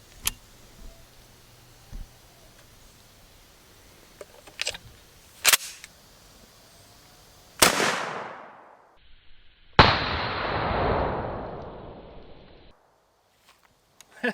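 A 12-gauge shotgun slug fires into a board: a loud, sharp blast with a long decaying tail. A second heavy boom follows about two seconds later, after scattered faint clicks and knocks, with no talk.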